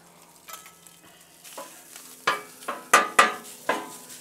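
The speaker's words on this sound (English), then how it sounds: "Let's throw down some mild Italian sausage to start off with." Mild Italian sausage goes onto a Blackstone griddle with a low sizzle, broken by a series of sharp metal spatula scrapes and clanks that grow louder toward the end.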